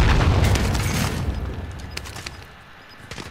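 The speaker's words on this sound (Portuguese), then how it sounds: "Preparando o explosivo." A heavy explosive blast rumbles in the Call of Duty: Warzone video game, starting with a deep boom that slowly fades into debris crackle and scattered pops over a few seconds.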